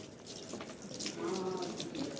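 Water runs from a tap in a home with a soft, steady splashing flow, fairly quiet and close, continuing without break.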